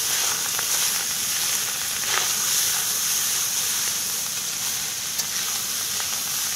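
Cooked rice fried in a pan with curry leaves and green chillies over low flame, a continuous loud, close sizzle and hiss with an occasional faint clink.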